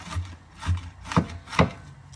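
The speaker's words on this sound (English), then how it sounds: "with my onions, I just try to chop it as fine as I can" A knife finely chopping onion on a cutting board: four close, crisp knocks at an even, unhurried pace, each with a brief scraping tail, and no talking.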